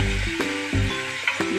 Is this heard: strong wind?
no